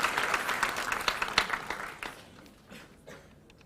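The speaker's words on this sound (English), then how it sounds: "Round of applause for that, please." An audience at a televised school quiz competition claps for a correct answer. The applause is fairly loud and dense for about two seconds, then thins and fades out.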